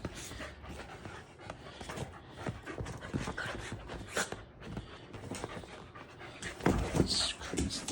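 Two dogs play-fight over a toy, panting hard and letting out whimpers and snorts at close range, a steady rough scuffle with occasional louder bursts.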